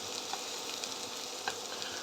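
Onions and pre-cooked sausages frying together in a pot, giving a steady close sizzle with faint crackles and a few soft stirring knocks, no voices.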